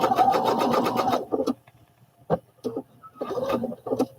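A sewing machine stitching overall fabric runs in a fast, even rhythmic whirr, stops for a few scattered taps and handling sounds, then whirrs again in a shorter burst.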